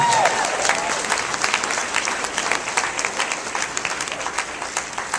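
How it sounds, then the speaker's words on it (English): A large crowd at a group challenge party applauds, dense continuous clapping filling the room, fairly loud and steady, with faint voices beneath. "Give these 53 people a big round of applause, please."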